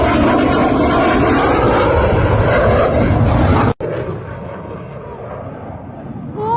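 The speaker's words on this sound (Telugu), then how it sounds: "దుబాయ్ ఎయిర్ షోలో మన ఫైటర్ జెట్ ఎలా క్రాష్ అయ్యిందో." Tejas fighter jet at the Dubai Air Show, a loud sustained roar of engine noise filling the air for several seconds before cutting off abruptly, followed by a quieter lingering rumble.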